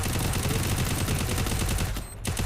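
Rapid gunfire in the battle-royale video game Free Fire, dense continuous bursts of shots filling the clip, loud and close, with a brief dropout near the end before firing resumes.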